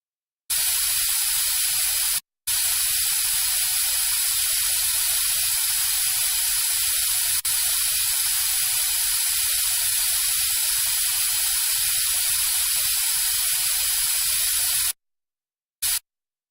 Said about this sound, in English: Let's spray some air to get the teeth nice and dry.